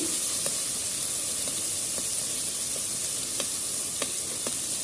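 Ginger garlic paste sizzles and fries steadily in a pan, a continuous close hiss with occasional faint stirring clicks, no voice.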